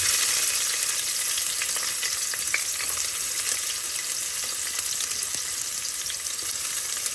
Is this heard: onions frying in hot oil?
yes